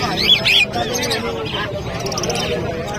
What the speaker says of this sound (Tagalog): So, ayan yung mga ibon ni Boss Marvin.